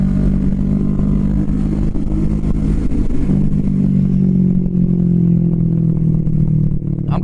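On a ride, the Kawasaki Vulcan S 650 Cafe ABS drones with a steady, close engine note whose pitch slowly rises and falls as speed changes, under constant road and wind noise.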